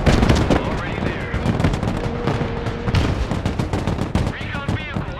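Gunfire in the video game Broken Arrow: loud, rapid bursts of machine-gun and rifle shots crackling over one another without a break, with a voice talking over the battle.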